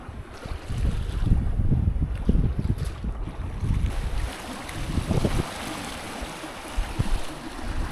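Sailboat moving at about 5 or 6 knots in the Ionian Sea, with a continuous rush of water along the hull and gusty wind buffeting the microphone, loud and steady throughout.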